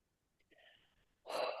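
A short gasping intake of breath is followed by a single loud, close sneeze at the end.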